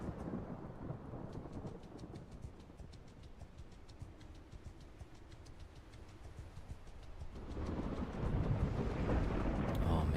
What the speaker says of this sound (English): Oh man, that thunder sounds so good.